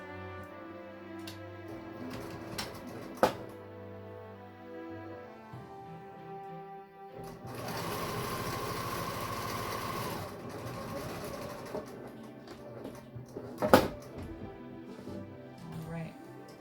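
A sewing machine stitches binding onto a quilt with a steady mechanical whir that runs in bursts, louder in the middle stretch, with a few sharp clicks and no talk over it.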